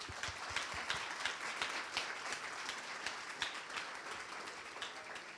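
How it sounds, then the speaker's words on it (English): A conference audience gives sustained applause, a fairly faint, steady wash of many hands clapping heard from a distance. "please give them again a big applause"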